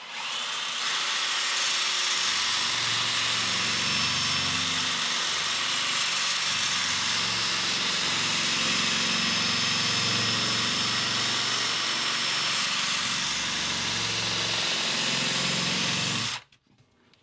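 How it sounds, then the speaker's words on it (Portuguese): A cordless drill fitted with a drum sanding attachment whines loudly and continuously for about sixteen seconds inside a tight opening cut for an outlet tower, then stops abruptly. "Eu vou pegar uma máquina aqui, ó, e uma parafusadeira com uma lixa de rolete aqui e vou colocar aqui dentro, ó."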